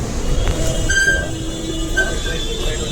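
Steady low rumble of a Mumbai metro train in motion, with a couple of brief high tonal squeals and muffled voices in the background.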